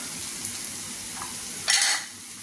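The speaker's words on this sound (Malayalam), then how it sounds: "ഇച്ചിരി മുളക് പൊടി ചേർത്ത് ലേശം മഞ്ഞൾപ്പൊടിയും കൂടെ ചേർത്ത് ഒന്ന് ഇളക്കാം" Chili and turmeric powder stirred into a frying pan, a soft continuous sizzle with a brief louder scraping stir near the end.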